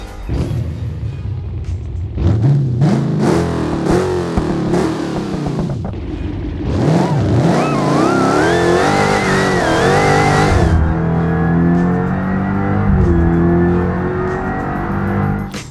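A Dodge Hellcat 6.2 liter V8 engine in the BeamNG.drive video game revs hard several times, pitch climbing and dropping, then settles into a loud, steady high drone close by.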